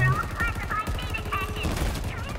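Rapid gunfire in the multiplayer video game Halo Infinite crackles in quick bursts under excited talk, with game sound effects layered over it.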